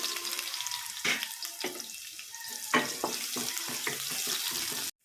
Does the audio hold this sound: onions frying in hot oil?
yes